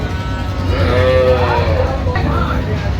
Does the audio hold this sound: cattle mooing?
yes